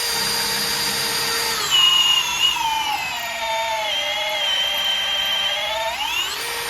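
A Ridgid cordless power drill whines steadily at close range, its high pitch dipping as it bogs down under load, then rising again near the end.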